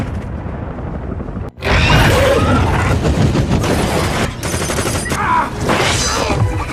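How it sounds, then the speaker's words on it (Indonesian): In a Venom film scene, gunfire strikes crates of explosives and sets off a loud, sustained roar of blasts and rapid bursts that begins abruptly after a short quiet pause and continues for several seconds. "Tepat saat para monster berada di area peti bahan peledak, jenderal langsung menyuruh anak buahnya untuk menembaki titik tersebut"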